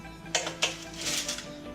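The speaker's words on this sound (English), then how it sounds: "I'm going to take them from here and put them onto our tray" Banana chocolate chip oatmeal cookies are shifted from a baking sheet onto a tray, giving two quick, close scraping clinks followed by softer shuffling.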